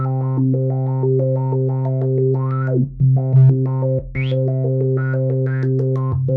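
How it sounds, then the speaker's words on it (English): An analog modular synthesizer filter modulated by sample and hold on pink noise, giving loud, close, rapidly stepping random resonant tones that jump in pitch without pause and with no talking. "That's the classic filter sample and hold effect."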